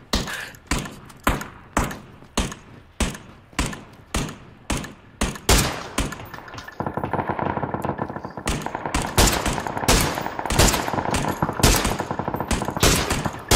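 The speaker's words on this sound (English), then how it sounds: "Why am I the only one getting shot?" Rapid bursts of gunfire from the battle royale game PUBG, a steady run of sharp repeated shots giving way to denser, continuous automatic fire with echoing thuds, loud and close.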